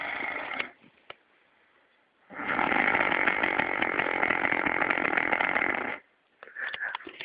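A man snores loudly and close in long, harsh, rattling breaths, one short snore followed after a pause by a drawn-out rasping one and the start of another.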